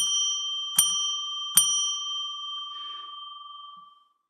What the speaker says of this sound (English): I ring the bell 3 times to declare sacred space